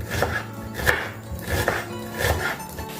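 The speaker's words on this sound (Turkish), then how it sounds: "Soğanları fare dişi olarak ince ince doğrayarak devam ediyorum." A knife finely chops onions on a cutting board, with crisp, evenly spaced taps repeating about twice a second, close and clear.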